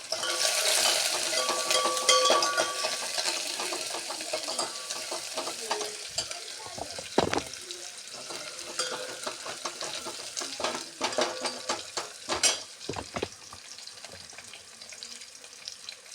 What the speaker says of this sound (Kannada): ಇವಾಗಲೇ ಚಿಟ ಚಿಟ ಅಂತ ಶಬ್ದ ಬಂತಲ್ಲ